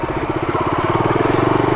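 A motorcycle engine chugs steadily with a low, rhythmic pulse while riding off-road on a rough mountain track in Jammu, loud and close throughout with no talk over it.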